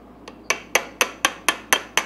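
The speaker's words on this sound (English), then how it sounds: "Feels like I can put a punch right in this hole right here. And just kind of tappy tap tap it on out." A hammer taps a metal punch against the gimbal housing of a 1968 StarCraft boat with a MerCruiser drive: seven or so sharp, evenly spaced close knocks, one faint tap, then a steady beat about four per second.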